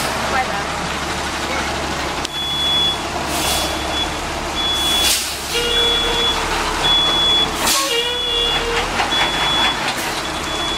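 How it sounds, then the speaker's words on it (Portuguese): A truck works along the steep Serra do Rio do Rastro mountain road in Brazil, its engine droning close by while a steady series of reversing beeps repeats through the clip, with voices talking at moments. "Era esse caminhão que tava fazendo barulho."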